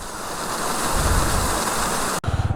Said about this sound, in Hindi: यह है JB वाटरफॉल, और ये श्योक रिवर में जा रहा है इसका पानी।